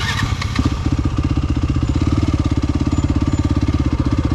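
A Yamaha WR250F off-road motorcycle engine putters at near-idle revs with a steady, rapid thumping pulse, close and continuous throughout.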